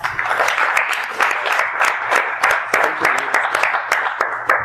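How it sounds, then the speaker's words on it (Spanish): Audience applause at an academic ethnomusicology lecture on music teaching, steady clapping with distinct individual claps popping out near the listener, continuing evenly with no speech. "Vamos a recibir con un fuerte aplauso"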